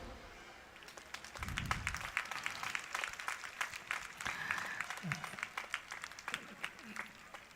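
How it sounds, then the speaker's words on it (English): An audience at a school's annual sports meet finals claps for a drill display. The applause is faint and distant, with scattered sharp claps over a soft, continuous patter and a few low murmurs. "can we have a round of applause for that marvelous drill display"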